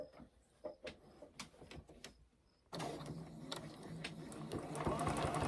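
Sewing machine stitching quilt binding at a quarter-inch seam, with light clicks and taps at first, then the motor kicking in as a loud, steady whirring hum that runs to the end.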